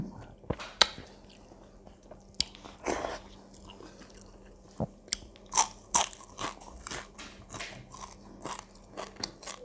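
Crispy fried fish is bitten and chewed up close, with sharp, irregular crunches and crackles separated by quieter pauses over a faint steady background hum.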